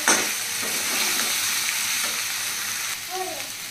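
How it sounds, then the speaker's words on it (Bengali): Previously fried soybean chunks being stirred and sautéed in a hot pan for a Bengali-style curry, with a loud, steady sizzle broken by repeated scraping stirs, close up and with no talking. "ভালো করে কষিয়ে নিচ্ছি।"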